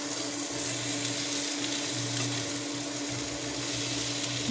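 Bitter gourd and eggs fry in a pan while being stirred, a steady close hiss of sizzling oil with a low background hum and no distinct stirring knocks.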